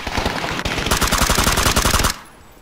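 Loud, close bursts of rapid automatic gunfire rattle almost continuously for about two seconds, then stop abruptly, leaving quiet room tone.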